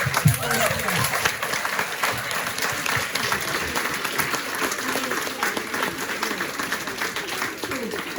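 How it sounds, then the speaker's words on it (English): A crowd applauds at a Young Carers Action Day showcase event, loud and close, dense clapping that stays steady and unbroken for several seconds. "So I think that's a huge round of applause"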